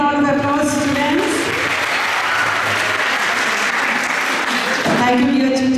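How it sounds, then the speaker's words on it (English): Students applaud their teachers after a stage performance at a school event, steady dense clapping filling the whole stretch, with voices and some tonal sound layered over the crowd. "Let us give a big round of applause, students."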